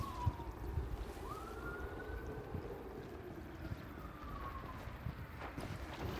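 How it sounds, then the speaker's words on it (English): Distant police car siren wailing outside a house at night, a faint rising and falling tone drifting over steady background rumble, with no talk. "There seems to be a police chase right by my house."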